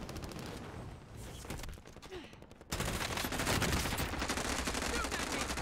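Gunfire in a Plunder mode shooter match, rapid machine-gun bursts that start faint and distant and then turn into sustained, dense automatic fire.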